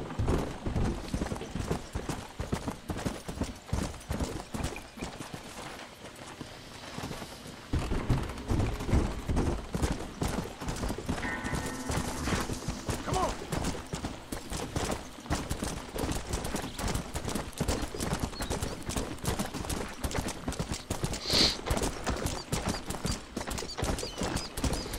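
Horse hooves clip-clop steadily at a brisk pace through Red Dead Redemption game audio, loud and continuous, with an occasional whinny and faint background game sounds.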